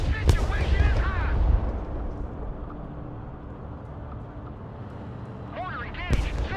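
Mortar and artillery fire rumble in the military game Broken Arrow, deep booming blasts and a continuous low battlefield roar, with brief radio-style voices breaking in at the start and end.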